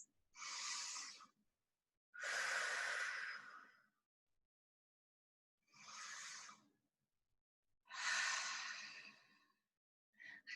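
Four slow, deep breaths taken during a seated stretch, each long airy inhale or exhale separated by silence, close and clear with no talking.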